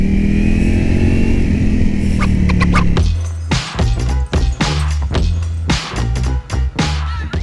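A Ducati Panigale V4S engine rumbles at idle, then revs in a rapid string of sharp, loud throttle blips, close by.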